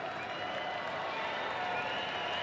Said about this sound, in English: round of applause as well for him from the travelling supporters